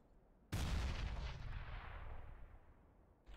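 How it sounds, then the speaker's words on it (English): A grenade goes off in the shooter game CS:GO, one sudden loud blast that rolls into a long decaying rumble lasting about three seconds, with no talk over it. "I'm throwing a grenade!"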